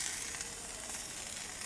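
Chicken frying in a little oil on a smooth flat griddle, giving a steady, close, broadband sizzle that holds evenly throughout with no talking.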